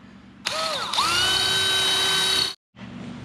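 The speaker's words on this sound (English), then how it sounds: "I'm going to drill from both sides instead of trying to go straight through" A power drill bores a hole through a steel coupler on a Harbor Freight utility trailer tongue, whining loudly and steadily for about two seconds, then stopping briefly before a quieter hum resumes.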